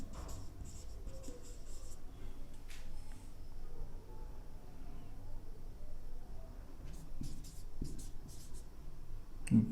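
A marker scratching across a board in steady strokes during a chemistry lesson on crystal systems and Bravais lattices, close and continuous over a low room hum, with short pauses between strokes.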